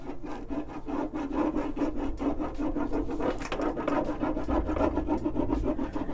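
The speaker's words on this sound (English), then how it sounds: "I'm going to use this and just rub that transfer off onto my piece" A brayer rubs a design transfer onto a wooden toolbox in quick, rhythmic back-and-forth strokes, a close, scratchy rasping that repeats steadily throughout.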